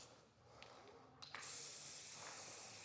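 Gold and silver spray paint hissing from an aerosol can onto a decorative epoxy floor, a short burst then a long steady spray, close and fairly loud with no talking.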